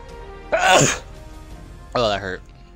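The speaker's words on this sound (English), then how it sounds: "Sneezing." A person sneezes twice during a live gaming stream, two sharp loud bursts about a second and a half apart, close to the microphone, with quiet background between them.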